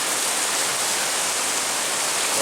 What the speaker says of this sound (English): Yeah, it's raining out there now. And it's windy.